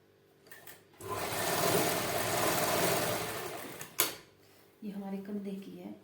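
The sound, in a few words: sewing machine stitching a garment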